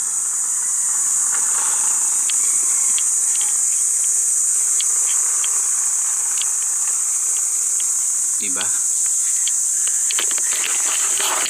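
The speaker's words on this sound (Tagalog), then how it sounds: "Ayos sa kuliglig, ano?" Crickets (kuliglig) on a tree-shaded morning walk in San Miguel, Bulacan: a loud, steady high-pitched trill running throughout, with scattered faint ticks and a brief muffled knock near the end; a voice speaks briefly.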